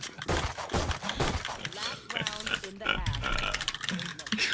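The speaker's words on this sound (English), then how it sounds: "The keyboard is so loud." Rapid, loud clacking of a computer keyboard during a CS2 match, busy bursts of keystrokes running under excited voices talking over one another.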